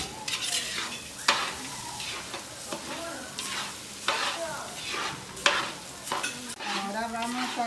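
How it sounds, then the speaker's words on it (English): Onion frying in a pot, with a steady sizzle beneath repeated scraping strokes of a utensil stirring against the pot, close and moderately loud. "So I'm stirring this pot now so that the onion won't burn"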